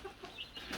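Baby silkie chicks cluck and peep softly while pecking at chick feed, a few quick, close, faint calls in a short burst.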